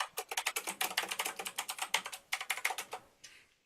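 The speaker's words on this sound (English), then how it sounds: "Somebody's typing." Rapid, crisp keystrokes clatter on a big, fancy gamer keyboard in quick, uneven bursts, close and fairly quiet, with a short pause before a final soft press.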